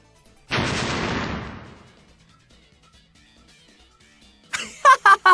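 Explosive weapon blasts in an anime fight scene: one big close boom fades over about a second, then after a pause three sharp, loud bursts go off in quick succession.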